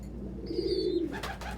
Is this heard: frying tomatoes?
no